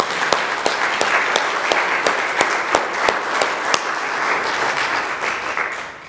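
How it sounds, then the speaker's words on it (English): A church congregation applauds its staff during a Sunday worship service, a steady wash of clapping with a few sharp, close individual claps standing out above the crowd, fading slightly at the end. "so let's give them a big round of applause."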